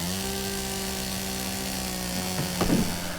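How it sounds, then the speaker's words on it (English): A chainsaw drones steadily while cutting through a hedge, its engine a continuous buzzing hum with a brief rougher burst near the end, loud and close with no speech. "check out how the belt on this chainsaw's perfect for going through this hedge"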